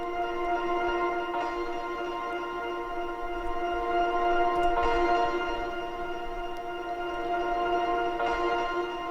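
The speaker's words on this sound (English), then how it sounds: "And then there are some guitar parts here." A sustained, droning guitar part plays alone, steady and even, with a few soft swells of brighter attack every few seconds.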